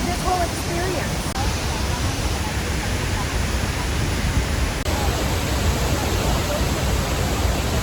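A waterfall inside a cave at La Fortuna, Costa Rica, making a steady, dense rushing roar that stays loud and unbroken throughout.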